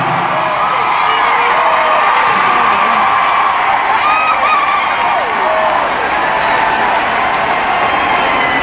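Crowd at a rock concert cheering and shouting steadily throughout, a dense, loud wash of voices and whoops with no break.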